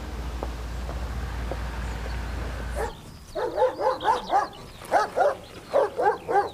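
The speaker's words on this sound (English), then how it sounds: "He's our new guard dog." A guard dog barks in a TV soap scene: after a quiet stretch of room tone, it gives a loud, close series of regular barks in two quick bursts.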